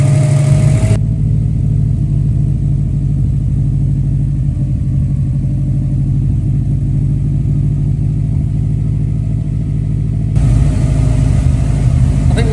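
A Subaru WRX salvage car idles at the exhaust end, a loud, steady, low engine rumble that holds unchanged throughout with no revving.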